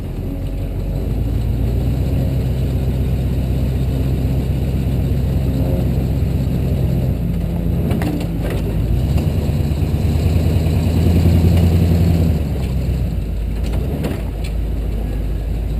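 An off-road wrecker truck engine runs loud and steady close by, rising into a heavier rev with tires spinning, with some clanks and rattles around the middle.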